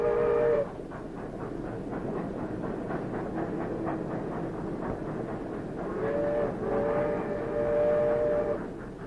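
Train on a tropical banana railway, a steady rumbling roll with rhythmic clicking of wheels over track joints, a sustained whistle-like tone sounding at the start and again near the end.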